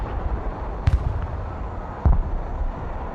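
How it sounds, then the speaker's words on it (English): Aircraft strafing runs in the Broken Arrow video game, heard as two sharp booming bursts of gunfire about a second apart, each landing with a heavy low thud over a steady rumbling battlefield background. "Roger, strafing the area."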